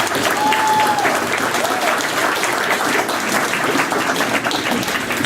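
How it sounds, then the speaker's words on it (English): Sustained, loud applause from a banquet audience honoring youth football players at a Manchester awards ceremony, steady and dense for the whole stretch with a faint voice briefly over it. "Give them one more round of applause, please."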